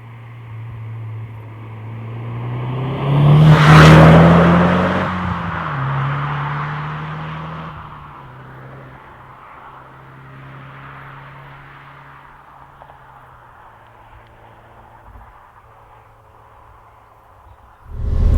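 A Nissan Silvia S15 Spec R with 250 horsepower pulls away on a test drive, its engine revving up to a loud, rising peak, then settling to a steady lower drone before picking up again at the end.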